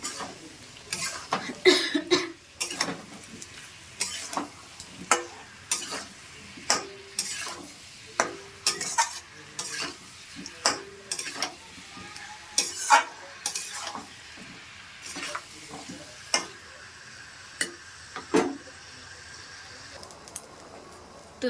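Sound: sautéing broccoli and paneer in gravy

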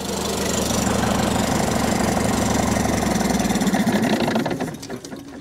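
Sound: Big-Cam 3 engine running in 1971 Dodge L1000 cabover

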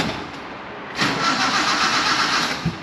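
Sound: mini-truck engine cranking, trying to start

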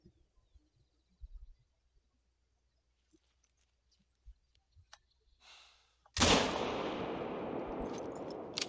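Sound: hunting rifle gunshot in video game Hunter Call of the Wild

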